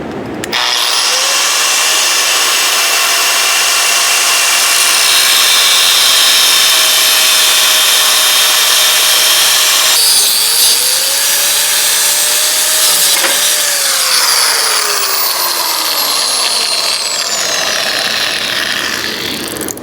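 A cut-off wheel on a grinder shrieks through metal close to the headers of a 1970 El Camino, a loud, sustained high whine that dips and rises in pitch as it bites, running continuously for nearly twenty seconds.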